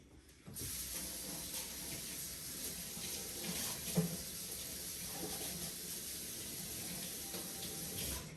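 Tap water runs in a steady, close hiss as vegetables are rinsed under it for meal prep, starting abruptly and then flowing evenly throughout with faint clatter.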